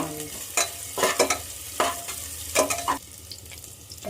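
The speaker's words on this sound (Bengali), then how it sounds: "এবার ওর মধ্যে আমি দিয়ে দেবো পেঁয়াজ কুচি পেঁয়াজটা একটু ভেজে নেব" Chopped onions fry in a pan of hot oil for Bengali ghugni, with a soft background sizzle broken by several close scraping stirs of a spatula.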